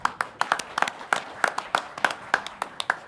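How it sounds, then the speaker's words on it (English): A small group at a university medical school awards ceremony claps, producing sparse, distinct hand claps in an uneven rhythm, close and moderately loud. "a round of applause for all of our nominees"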